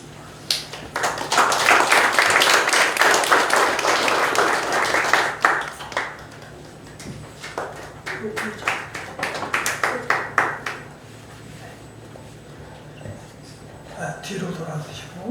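Applause from a congregation at a pastors' ordination ceremony in a Korean church, a loud sustained burst of clapping that fades, then returns more scattered and lighter before dying away.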